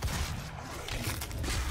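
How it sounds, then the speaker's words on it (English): A charge burst weapon in DOOM fires a dense, sustained crackling blast with a mechanical roar that fills the moment, loud and continuous. "Let's see how this charge burst goes."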